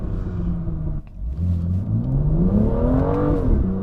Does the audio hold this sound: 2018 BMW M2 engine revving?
yes